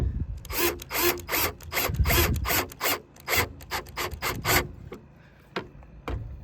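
A T20 driver turns a screw while mounting LED license plate lights on a 1994-2001 Dodge Ram. The close, rhythmic rasping and grinding strokes repeat in quick succession for several seconds, then thin out into a few isolated scrapes.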